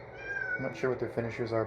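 A pet cat meows close by, its cries mixed in with a person talking steadily over them.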